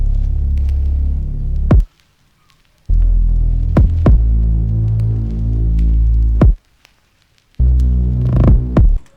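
A deep bass one-shot played together with a kick drum in an Afrobeats beat: long booming low notes punched by sharp kick hits, with short silent breaks between phrases, loud and alone.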